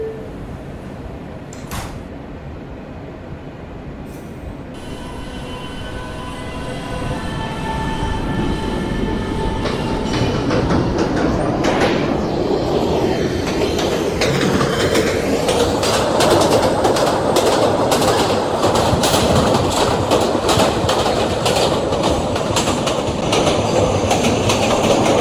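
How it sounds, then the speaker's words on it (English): A subway train rumbles as it pulls away after its doors close, the rolling clatter and hiss of the cars growing louder and steadier, with no talking. "Please step back from the closing doors."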